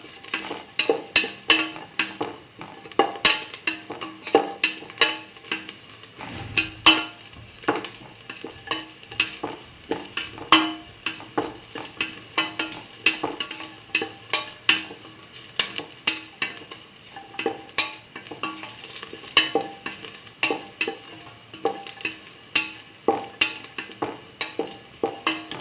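Mustard okra rice being sautéed and stirred in a pan, with a steady sizzle and frequent scraping, clinking strokes of a utensil throughout, no voices.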